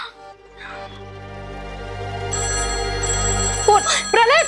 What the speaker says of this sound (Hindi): फोन प्रलय, रुक जा मैं उठाती हूँ।